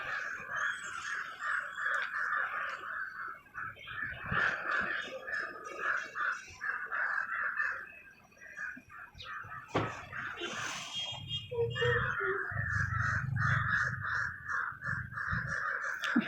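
Crows caw repeatedly from nearby, harsh calls overlapping with other birds against a steady outdoor background, with a low rumble joining partway through.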